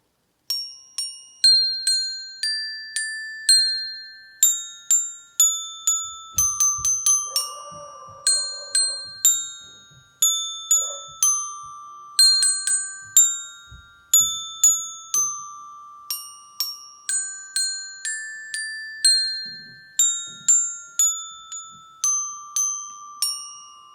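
A homemade xylophone plays the ABC song tune, a long run of bright, ringing struck notes in a steady singalong rhythm, with a few faint thumps and a dog's distant bark partway through.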